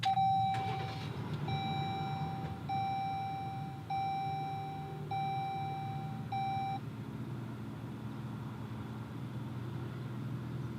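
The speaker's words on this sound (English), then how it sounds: "push and hold the brake, and push this button to start it up" Push-button start of a 2021 Jeep Grand Cherokee L: a short run of evenly spaced electronic chimes over a low engine hum, then the steady idle carries on alone.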